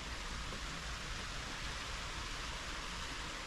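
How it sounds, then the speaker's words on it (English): A soft, even hiss of rain falls steadily outside an abandoned country house, faint and continuous with no voices. "You can hear that beautiful rain."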